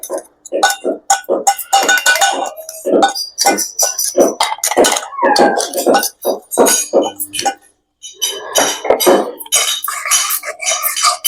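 Fenugreek powder being stirred into oil in a pan for cabbage pachadi, with loud close metallic clinks and scrapes of a spoon in quick irregular bursts and one short pause.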